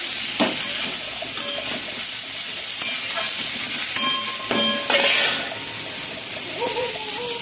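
Food frying lightly in a home kitchen pan gives a steady close sizzle with utensil clinks and scrapes and a few brief tonal kitchen sounds, with no one talking.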